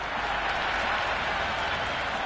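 A stadium crowd applauds in the video game Cricket 26 during an India versus England one-day international, a steady, even wash of clapping that stays at the same loudness throughout.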